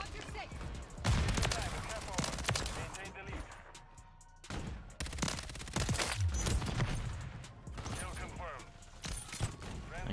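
Rapid SMG gunfire from Modern Warfare 3 multiplayer, in repeated loud bursts of close-range shooting with brief gaps between them, with talk over part of it.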